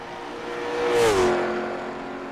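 A race car in a Le Mans sim racing game takes the final corners of the Okayama circuit toward the start-finish line. Its steady engine drone swells and dips in pitch as it works through the bends, loud and close, with no talk.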